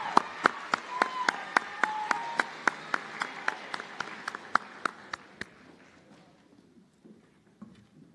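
Applause for nursing graduates at a white coat ceremony: sharp, evenly spaced claps ring out close by over a softer crowd patter and murmur, then thin out and fade after about five seconds.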